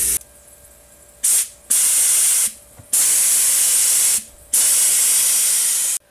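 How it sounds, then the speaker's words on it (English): Homemade spray gun misting chrome plating chemicals from two bottles, silver-plating fishing lures and a reel: four loud, steady hissing bursts of roughly a second each, separated by short pauses, close and without any talk. "make sure this gun sprays the same amount at the same rate from both of these bottles"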